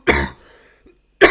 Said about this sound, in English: Sorry, I got a cough.